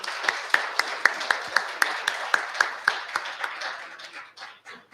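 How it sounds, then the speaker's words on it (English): A congregation at a Unity church Sunday service claps for newly chosen board members, starting with a few crisp, separate claps in a loose rhythm that thins out and fades near the end. "So if we can give them a round of applause."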